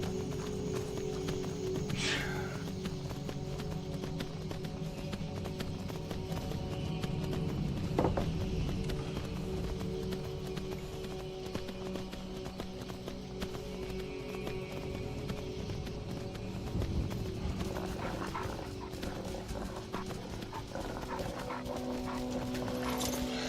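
Horse hooves galloping in Skyrim on Xbox, a constant rhythmic clip-clop running under game noise and music for the whole stretch, with no talk over it.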